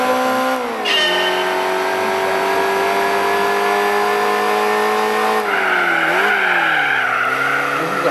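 A Mazda Miata engine roars in a driving video game, loud and continuous. Its pitch rises and falls through gear changes, and tire squeal joins it in the later part.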